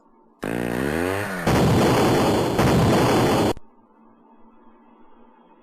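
Tank cannon fire in an Amiga public-domain video game, heard as a loud synthetic burst with a falling tone followed by roaring noise blasts lasting about three seconds, then a quiet hum.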